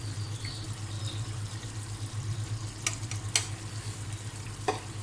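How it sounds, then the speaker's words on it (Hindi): Chicken karahi with green chilies, ginger and black pepper fries in a pan, holding a steady sizzle under a few sharp scraping stirs and clinks from the spoon, with no voices. "और इसे मिक्स कर लेंगे अच्छे तरीके से।"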